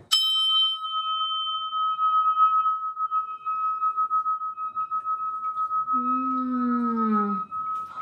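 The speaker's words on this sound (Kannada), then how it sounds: "ಇದು ಕಾನ್ಸ್ ಬೆಲ್ ಅಂತಾರೆ, ಬ್ರಾನ್ಸ್ ಬೆಲ್ ಅಂತ" A bronze bell in a home shrine is struck once at the start and rings on in a long, steady, clear tone that barely fades. Near the end, a brief howl-like wavering cry rises over it.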